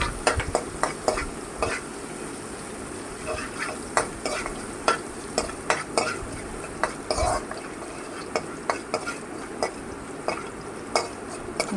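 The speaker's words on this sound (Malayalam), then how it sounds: "ഇതിലേക്ക് ഇഞ്ചി വെളുത്തുള്ളി പേസ്റ്റ് ചേർത്ത് കൊടുക്കുക. ഇത് നന്നായി മൂപ്പിച്ചെടുക്കണം. നന്നായി ഇളക്കി കൊടുക്കുക." Ginger garlic paste fries in a pan under frequent, rhythmic stirring, with a spoon scraping and clicking against the metal over a constant sizzle.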